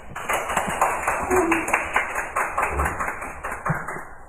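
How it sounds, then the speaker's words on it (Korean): Audience applause welcoming a professor's presentation at a policy seminar, steady rhythmic clapping from a crowd, close and moderately loud throughout. "큰 박수로 김동현 교수님 발표 맞이해 주십시오"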